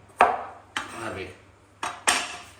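An onion is chopped on a board in a Pakistani village kitchen, four distinct knife strikes at uneven intervals, each one sharp and close with a short ringing decay.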